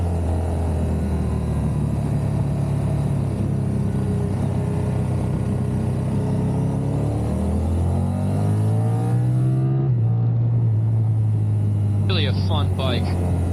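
A Triumph Tiger 1200 Rally Pro adventure motorcycle hums steadily with heavy wind rush as it rides through a turn, the engine note rising and falling with the throttle. A rider talks over the constant noise.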